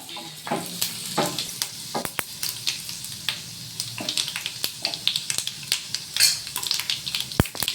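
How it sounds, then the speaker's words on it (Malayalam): Mustard seeds spluttering in hot oil along with dried red chillies, sharp irregular pops and crackles close by over a constant frying sizzle, with a few louder bursts near the end. "അപ്പം നമ്മുടെ കടുകൊക്കെ ഒന്ന് കുത്തി വന്നിട്ടുണ്ട്"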